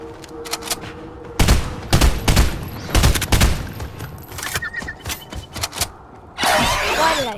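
Gunfire in the Fortnite video game: sharp shots ring out singly and in quick clusters over several seconds, loud and close, with a brief burst of shattering, mechanical noise at the end.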